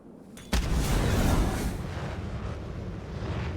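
Brimstone's ability lands on a bomb site in Valorant on the Abyss map: a sudden loud blast hits, then a sustained rumbling roar slowly fades over several seconds.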